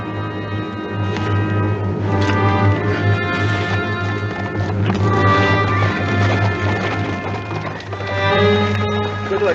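Horses galloping off with clattering hooves, mixed under a dramatic orchestral score in an old Western TV episode, with busy rhythmic hoof beats running throughout.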